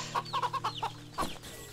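Chickens cluck in the video game Wytchwood, a quick series of short, close clucks followed by one more after a pause, clear against a quiet background hum.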